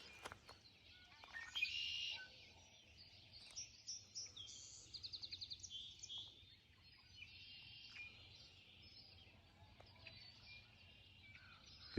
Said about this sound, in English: I just want you to hear these birds